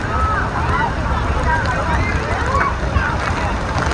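A tour boat turns on the water near Niagara Falls at Horseshoe Falls, under a steady, loud rush of wind and falling water with a low engine rumble, and faint voices mixed in.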